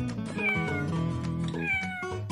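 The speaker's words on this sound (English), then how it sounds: "Meow, meow, that's right, children." A kitten meows several times in quick succession, high and wavering, close and clear against a quiet background.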